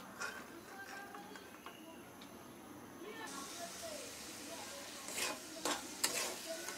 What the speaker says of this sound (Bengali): ডালটা দিয়ে আমি আবার আরেকটু কষিয়ে নেব